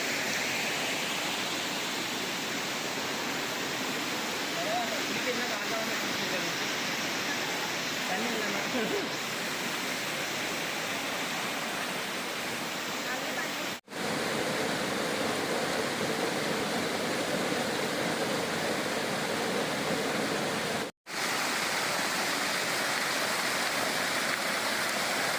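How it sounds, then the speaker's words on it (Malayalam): A small waterfall and river water rush steadily close by, a dense unbroken roar of flowing water filling the whole stretch, interrupted only by two brief dropouts. "ഈ വെള്ളം ഒഴുകി വരുന്നതിൻ്റെ സൈഡിലാണ് ഇവിടുത്തെ ലോക്കൽ ആൾക്കാർ ഇല്ലീഗൽ മൈനിങ് നടത്തുന്നത്"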